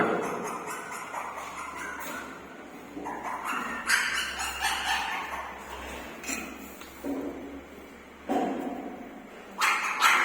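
A litter of seven puppies yipping and squeaking in short, high bursts scattered across the clip, close by over a quiet background.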